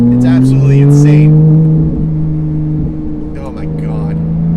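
Engine of a manual Porsche 991.2 GT3 revs and pulls while driving, a strong rising drone heard from inside the car, with someone speaking over it.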